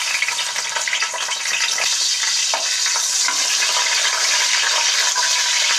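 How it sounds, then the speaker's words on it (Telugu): Green chillies hitting hot oil for an Andhra-style bommidala fish pulusu, giving a loud, steady hiss of frying that holds close and unbroken throughout with no talk. "Oil heat ఎక్కిందండి. ముందుగా పచ్చిమిర్చి వేద్దాం."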